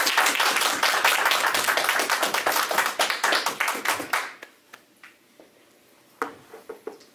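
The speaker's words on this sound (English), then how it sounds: "Can we get another round of applause," Enthusiastic applause from an audience at a Black History Month community center event on Black culture in sports, a dense burst of clapping that thins into scattered, fading claps, with a few late isolated claps near the end.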